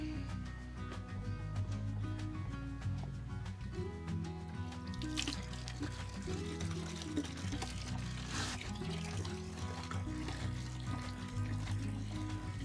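Water drains steadily from the drain plug of an RV water heater, a continuous splashing flow under quiet background music.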